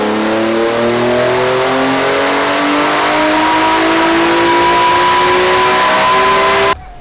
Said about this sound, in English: It's an eBay muffler with a res delete.